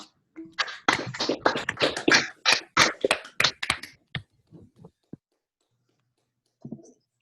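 Online participants clapping over unmuted microphones after a math talk, a brisk burst of sharp claps for about four seconds, then a few scattered ones and a faint sound near the end.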